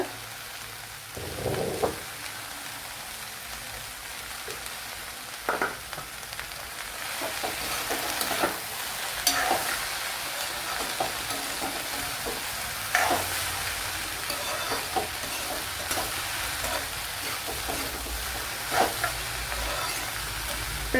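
Okra stir-fry with turmeric and salt sizzling in a pan, a steady rain-like crackle under repeated scraping and tapping of a spoon, with no talking.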